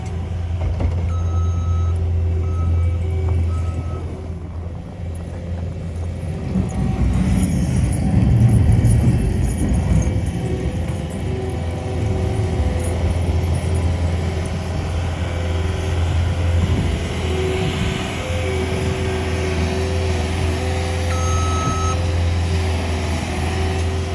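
A truck reverses in deep snow at Mammoth Lakes, its intermittent backup beeps sounding over a loud, constant diesel engine rumble, with the engine swelling briefly partway through.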